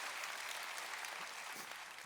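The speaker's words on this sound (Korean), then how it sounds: "안광석 교수님께 다시 한번 큰 박수" Lecture audience at a public natural science talk applauding the speaker, a dense, steady wash of clapping that fills the whole stretch at an even level, with no voices rising above it.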